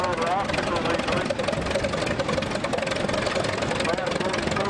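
A restored Caterpillar tractor engine runs at the ACMOC parade, a steady mid-pitched rumble and chug under an outdoor wash of crowd and wind, with a voice speaking over it.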